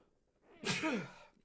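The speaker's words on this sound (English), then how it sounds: "Apparently, talking for 10 minutes makes me sneeze." A single close, sharp sneeze with a short breathy intake before it, in an otherwise quiet room.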